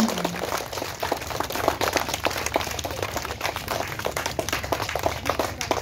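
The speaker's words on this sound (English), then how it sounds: "Give a clap." Hands clapping at an Independence Day flag-hoisting ceremony: dense, steady applause holds for the whole stretch at moderate loudness, with sharp individual claps poking out of the mass.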